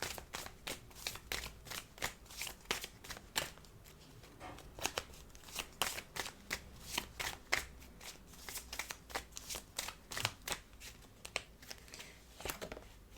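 Tarot cards are shuffled and drawn in a steady run of crisp riffling and snapping bursts, close and fairly quiet, with no one speaking.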